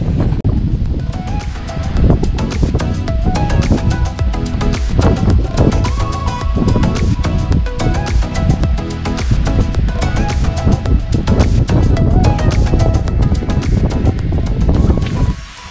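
Wind buffets the microphone at a seaside surf camp, a loud, continuous gusty roar with rustling bursts throughout.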